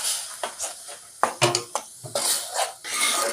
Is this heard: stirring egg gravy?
yes